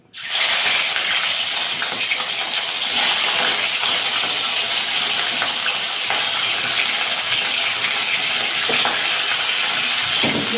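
Loud, steady hissing sizzle of fish frying in hot oil, starting abruptly and holding constant throughout, close up.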